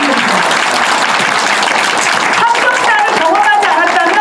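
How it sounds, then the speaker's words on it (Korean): A church congregation at a revival meeting bursts into loud, sustained applause, a thick steady roar of clapping with voices and cheering rising toward the end. "우리 이럴 때 박수 치라고."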